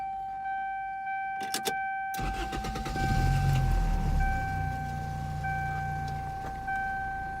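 A 1995 Geo Prizm's starter gives a couple of brief cranks, then the engine catches and settles into a steady, rumbling idle, close by, with a continuous electronic chime tone running underneath.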